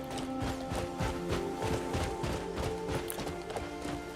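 Horse hooves clip-clopping at a steady quick gait while riding in the video game Crimson Desert, a continuous rhythmic beat under a dense layer of game music and ambience.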